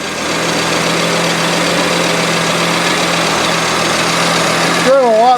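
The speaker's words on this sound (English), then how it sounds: "You can tell it's already idling a whole lot better." A Merkur XR4Ti engine idles steadily and fairly loud close by, a smooth continuous hum with a faint whine, ending with a brief rising and falling tone.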